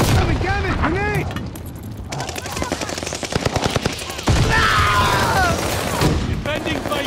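Grenade blast and rapid automatic gunfire in a Call of Duty Vanguard battle, loud and dense, with repeated bursts and a heavy thump partway through, while in-game voices shout over the combat.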